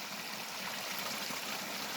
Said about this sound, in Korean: 폭포 소리 어떠세요?